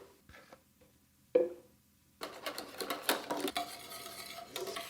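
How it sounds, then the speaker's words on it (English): Custard of egg yolks and sugar stirred in a pot as it boils, with a few light clinks of utensil on pot followed by steady scraping, bubbling kitchen noise, fairly close. "I stir this while it's boiling and I let this thicken a little bit"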